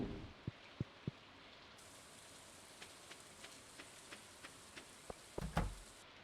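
Steady soft rain in the farming game Stardew Valley, a continuous hiss with scattered faint drips and a few sharper taps, quiet and without talking.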